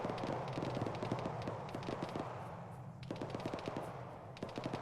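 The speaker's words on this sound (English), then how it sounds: "let's just shoot at it right here" Rapid bursts of automatic gunfire in the Arma 3 military game, repeated volleys with short pauses, loud and continuous over a low background rumble.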